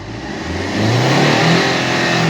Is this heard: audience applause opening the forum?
no